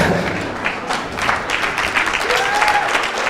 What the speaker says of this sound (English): glad some people are clapping that shit up